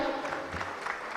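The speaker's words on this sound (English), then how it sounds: "Come on, let's give a round of applause before they start, everyone." Audience applause at a conference session, a dense steady patter of many hands clapping throughout, moderately distant and unbroken by speech.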